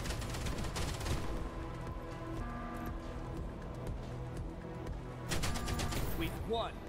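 Base defense turrets fire in the sci-fi game Outpost Infinity Siege, rapid bursts of gunfire crackling at the start and again near the end, with steady mechanical game noise and rumble between them and no talk.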